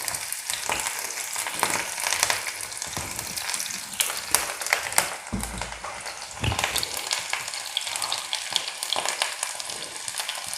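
Onions and spices fry in hot oil in a wok, a steady loud sizzle and crackle with occasional stirring scrapes, close up and with no voices.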